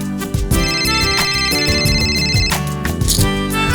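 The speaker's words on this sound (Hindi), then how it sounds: "फोन बज रहा है, कोई उठाता क्यों नहीं?" A telephone rings loudly and insistently in a house, its electronic tone repeating in quick bursts over a steady musical drone, with no one picking up.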